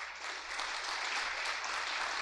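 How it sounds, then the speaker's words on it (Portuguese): A church congregation applauds during a prophetic worship service, a dense, even wash of many hands clapping together, steady and continuous throughout. "Você pode aplaudir ao Senhor por isso?"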